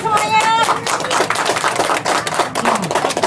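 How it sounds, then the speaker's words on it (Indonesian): A group claps in brisk, uneven bursts that fill the space at an Indonesian embassy farewell ceremony in Bandar Seri Begawan, with some scattered voices underneath. "Tepuk tangan semuanya"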